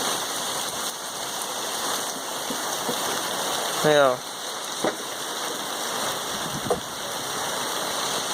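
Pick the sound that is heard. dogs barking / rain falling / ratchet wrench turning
rain falling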